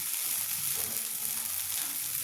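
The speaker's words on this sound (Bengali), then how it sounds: "এবার আমি একটু জল দিয়ে দিলাম," Spiced masala with coriander leaves fries in a pan after a splash of water, giving a steady, close hiss and sizzle that runs unbroken throughout.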